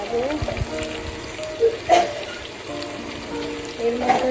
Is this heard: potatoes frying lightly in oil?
yes